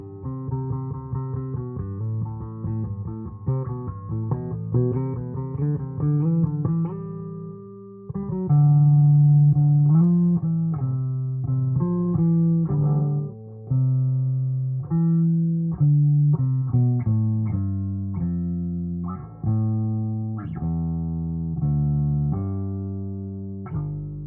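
A 1983 Peavey T-20 bass guitar played with the tone knob at zero, dark and muffled notes in a steady line of plucked phrases, close and clear.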